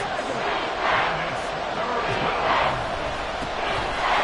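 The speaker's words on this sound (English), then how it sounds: "And this crowd urging on their defense. They're up and making noise." Football stadium crowd in a video game roaring and cheering steadily, a dense continuous wash of voices swelling in waves behind the defense, loud throughout.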